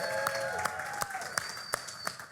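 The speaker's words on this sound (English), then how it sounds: "we should give a big hand of applause to Autodesk for arranging this amazing" At an evening design event, sparse, distinct claps ring out a few at a time against a quiet room with faint tonal background sound.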